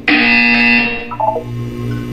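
In Portal 2, a loud harsh electronic buzzer sounds once for about a second, then fades into a lower hum with brief tonal blips.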